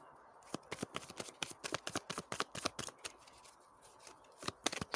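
A deck of tarot cards is shuffled close by, a rapid irregular run of crisp flicking riffles and soft slaps, fairly quiet, with no talking.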